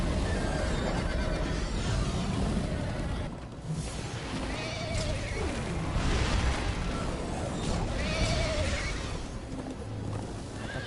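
Horse neighing and whinnying in the Minecraft Story Mode video game, with repeated calls over a dense, loud game soundtrack and some effects; no speech.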